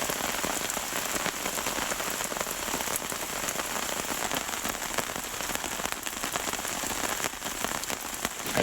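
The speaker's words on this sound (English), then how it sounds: "That rain on the tarp really helped me sleep." Rain drums steadily on a taut tarp overhead, a dense crackling patter of drops close by, continuous and unbroken.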